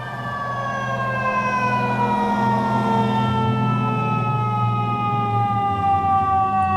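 Fire trucks pass a roadside on a freezing cold day, their wailing sirens sweeping slowly up and down over a deep engine rumble, loud and close, with no talk.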